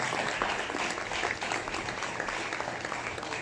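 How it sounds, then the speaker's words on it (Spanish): A church congregation applauds during a service, a continuous wash of clapping at moderate volume with slight surges and no speech on top. "Dale un aplauso al Señor."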